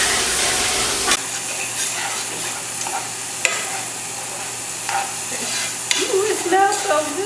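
Garlic and tomato sizzle steadily in a hot frying pan, with a loud sizzle burst at the start settling into continuous frying hiss and occasional stirring clatter, close and without talk.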